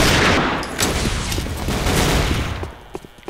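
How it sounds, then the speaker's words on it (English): The Kraken railgun in a shooter video game fires in a loud cluster of sharp cracking blasts and booms that ring out densely, then fade into quieter scattered pops near the end. "Kraken railgun."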